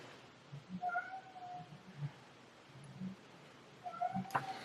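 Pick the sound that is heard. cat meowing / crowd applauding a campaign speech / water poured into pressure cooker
cat meowing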